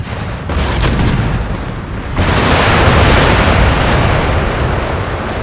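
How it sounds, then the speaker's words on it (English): Cannon artillery in an Empire: Total War battle booms in a dense, continuous roar of overlapping blasts, loud and sustained, with a sharper surge of firing about two seconds in. "I'm going to let the cannons do what they want for a while and just start firing."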